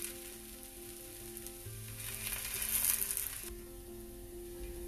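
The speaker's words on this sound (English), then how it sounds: "We'll place this roti on this. Fry on both the sides properly." A green moong dal paratha (roti) fries in ghee on a hot pan, giving a close, steady sizzle that swells louder midway before settling back, with no voices.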